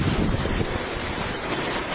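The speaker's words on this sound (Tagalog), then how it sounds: "Sinabayan ng hampas ng hangin ang malakas na ulan sa Dinapigue," Typhoon Paulo batters Dinapigue, Isabela with strong wind and heavy rain, a loud, unbroken roar of gusts and downpour buffeting the microphone, with no voices.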